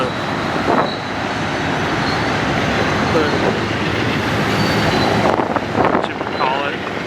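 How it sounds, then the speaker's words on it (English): Union Pacific train pulling out on a rail line on the way to Tehachapi, a steady broad rumble with wind buffeting the microphone, continuous and fairly loud throughout with a brief stronger burst near the end. "And it looks like the UP will be pulling out."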